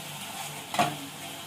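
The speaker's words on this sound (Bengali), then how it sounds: "মশলাটা পেঁয়াজের সঙ্গে কষিয়ে নেব" Spice paste of ginger, onion, garlic, cumin, turmeric and chili is fried with browned onions in oil, giving a soft, even sizzle with one brief spatula stir near the middle, close and fairly quiet.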